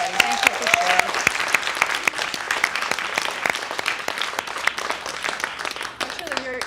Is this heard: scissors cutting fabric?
no